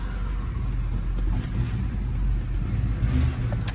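LBZ Duramax diesel pickup truck with a louder turbo and a WCFab intake kit and hot-side pipe, out on a test drive: a steady, low engine drone with some turbo whine on top, close and continuous from start to finish.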